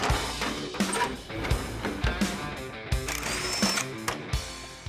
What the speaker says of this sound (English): We'll start by taking out a few bolts that hold in our seat.